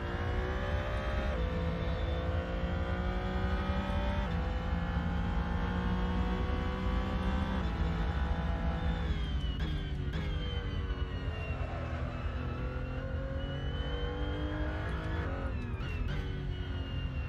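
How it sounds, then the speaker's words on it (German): A 2021 Porsche 911 RSR GTE race car in the Assetto Corsa racing game holds a loud, steady engine drone with rising and falling pitch as it shifts gears, heard alone without talk. "Das ist der 911er RSR GTE"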